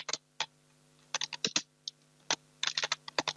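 Clattering keystrokes on a computer keyboard as a name is typed into an Excel spreadsheet, arriving in short irregular bursts with brief pauses, close and fairly quiet with no talking.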